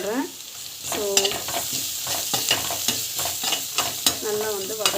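Chana dal and turmeric sauté in a hot pan with a steady close sizzle, broken by repeated scraping stirs and a few squeaky utensil strokes against the pan.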